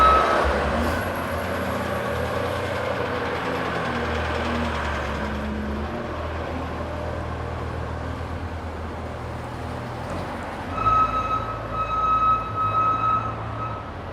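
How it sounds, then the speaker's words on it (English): Streetcars idle in a queue waiting to enter a streetcar loop on a noisy Toronto road, a steady low rumble of motors and traffic, with a higher whining tone and a louder surge near the end. "There's a streetcar loop here that these are queued up to get into."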